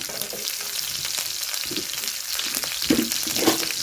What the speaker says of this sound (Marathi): तवा तापलेला आहे त्यावरतीच आहे ना हिरव्या मिरच्या आणि लसूण टाकते